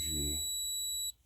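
A multimeter gives a continuity-test beep on air-conditioning system wiring, one steady high electronic tone lasting about a second before cutting off, with a short burst of speech at the start.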